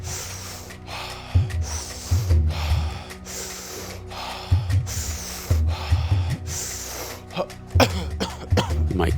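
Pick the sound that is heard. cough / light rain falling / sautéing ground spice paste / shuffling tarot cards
cough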